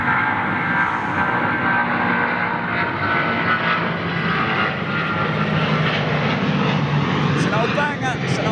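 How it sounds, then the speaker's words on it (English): An American Airlines Boeing 777-200 taking off at London Heathrow under a low cloud base gives a loud, steady jet roar that fills the whole stretch, with a voice talking over it. "American Airlines 777. Here we go."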